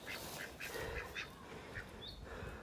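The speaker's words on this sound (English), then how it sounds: "Drake and ducks." A drake and ducks quack repeatedly in short, scattered calls near a goose shed, soft and fairly close, with faint background noise and no talking.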